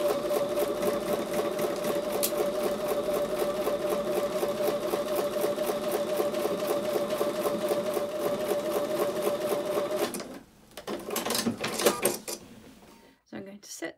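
A sewing machine runs steadily for about ten seconds, stitching quilt fabric pieces together with a quarter-inch seam, then stops; a few clicks and handling noises follow near the end.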